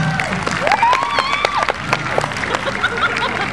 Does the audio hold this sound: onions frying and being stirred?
no